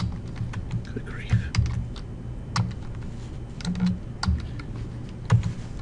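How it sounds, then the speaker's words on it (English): Rapid, uneven clicks of fingers typing on an unfamiliar computer keyboard that once had a Coke spilled on it, close and moderately loud, with faint voices murmuring underneath. "Oh, there's the A key. Get my fingers right. It's a strange keyboard."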